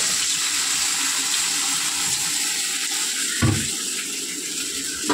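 Water poured into a cooking pot, a continuous splashing gush near the mic that shifts in tone partway through, with no voices.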